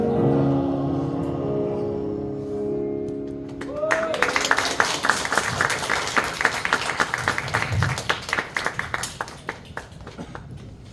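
A held sung note fades as a church congregation breaks into warm, sustained applause after a hymn sung by an elder and a governor. The clapping builds quickly, stays lively for several seconds, then thins out.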